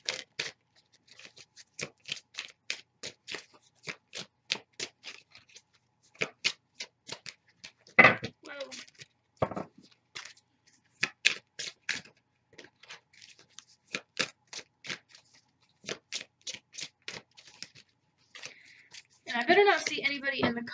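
Tarot cards are shuffled by hand in quick crisp riffling bursts, repeated many times with short pauses, close and clear, ending in a denser rustling flurry.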